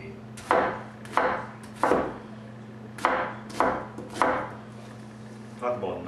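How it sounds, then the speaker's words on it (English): An onion is chopped with a roughly 14-inch French knife, six sharp blade strikes landing about a second apart on a cutting board, close and clear over a steady low hum, with no talking. "So we're going to chop up the onion also"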